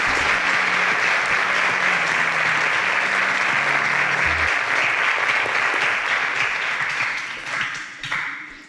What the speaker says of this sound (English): A round of applause for Ekene.